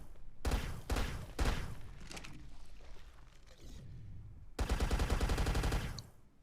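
Bursts of rapid gunfire in the video game ARK during a Dreadnoughtus taming, several loud volleys separated by short pauses, the last one long and sustained.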